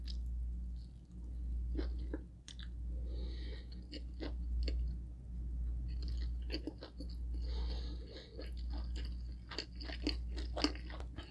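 Close-up crunchy chewing of roasted pork belly skin that is no longer fresh, irregular bites and crackles over a low steady hum, with no talking.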